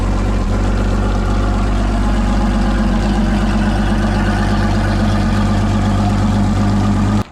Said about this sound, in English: we're gonna start it up one last time before putting this engine up